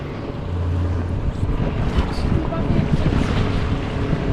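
A sixty-year-old Omega cabin motorboat running on water, its steady low engine drone and hull noise continuous under strong wind buffeting on the microphone, close and fairly loud throughout.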